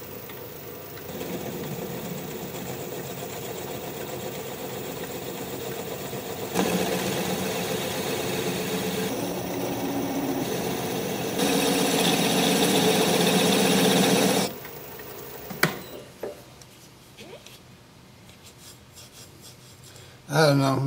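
Wood lathe spinning a bowl blank at about 500 RPM, a steady mechanical hum and rasping scrape of the tool on wood that swells louder in the middle, then drops away to a quieter run with a few knocks near the end.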